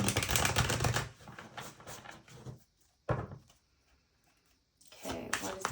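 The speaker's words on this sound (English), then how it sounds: "I'm just taking these cards back to get some advice." A deck of tarot cards is gathered and shuffled by hand: close bursts of riffling and card-slapping clatter, split by short quiet gaps and sharp taps, with a louder shuffle near the end.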